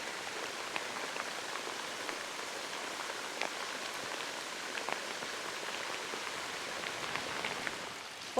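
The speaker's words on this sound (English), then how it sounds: "Ponds loving this extra rain." Heavy rain falls steadily on a garden pond in a wet Northumberland bog garden, a dense continuous patter with scattered sharper drops, with no voices.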